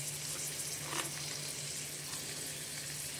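Chopped garlic frying in a pan as the first step of chicken adobo with broccoli and string beans, a soft continuous sizzle with faint stirring, steady and close, no voices.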